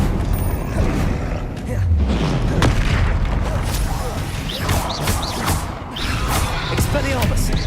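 Booming fire-blast impacts of the Confringo spell in Hogwarts Legacy, several heavy thuds and crashes over dense, loud combat noise with crackling debris throughout.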